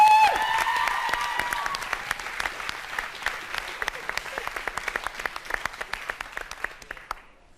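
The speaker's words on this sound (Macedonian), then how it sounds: "сега најголем аплауз за биг бендот" Applause for a big band at a televised song-contest final, a dense, loud crowd clapping that stays steady throughout, thinning toward the end into scattered claps before stopping abruptly.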